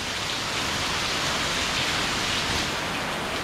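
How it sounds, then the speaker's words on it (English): Steady tropical rain falls in Rayong, Thailand, a dense, even hiss of drops with no breaks, close and moderately loud throughout. "seeing some tropical rain"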